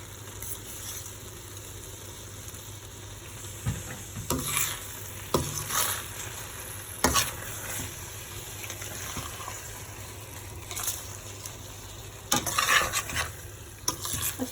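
A spoon stirs split urad dal for a dhaba-style tadka in a pan, giving soft scraping strokes that come in short bursts over a low, steady background hum. The clip has no talk.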